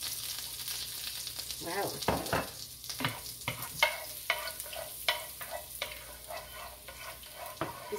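Garlic sizzles steadily in hot oil in a wok while being stirred, with repeated sharp scraping strokes of the utensil over the constant frying hiss; a brief exclamation is heard.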